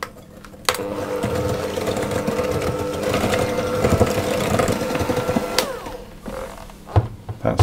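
An electric mixer beats milk into biscuit dough for speculaas, a steady close whirring drone that runs for several seconds before cutting off, with a few clunks near the end.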